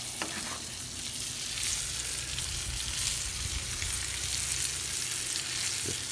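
Butter sizzles loudly and steadily in a hot pan as a ribeye steak sears after a reverse sear, a continuous bright crackle with no talking.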